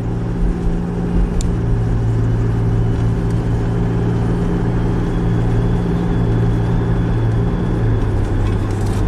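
Nissan Xterra engine under load on a test drive, a steady low drone with sustained tonal hum running continuously throughout, fairly loud and close, without talk.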